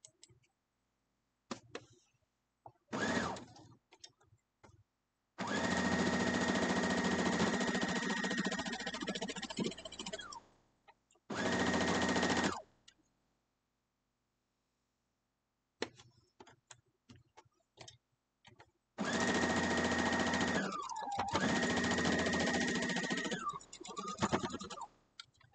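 Sewing machine stitching pieces of a quilt block, with several bursts of steady mechanical whirring, two long runs and a couple of short ones, separated by quiet gaps and small handling clicks.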